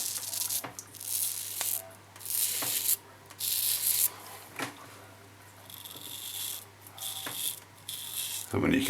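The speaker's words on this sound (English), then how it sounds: "You let the razor's weight carry it across your face." A safety razor scraping stubble off a face, with close, dry rasping strokes in short bursts of roughly a second each, separated by brief pauses and one sharp click near the end.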